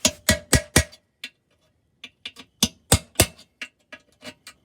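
Sharp metallic taps of a punch knocking out a part inside a Torqueflite transmission ring out in quick clusters of three or four hits, close and crisp, separated by short pauses, with no speech.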